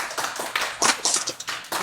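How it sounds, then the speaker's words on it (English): A martial arts class in a studio claps for itself after bowing, a short, uneven burst of light hand claps from a small group, moderately near and fairly quiet. "Give yourself one round of applause."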